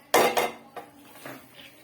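Dry mash dal stirred with a wooden spoon in a pan: two firm scraping knocks, then a few softer scrapes and taps fading out, with no talking.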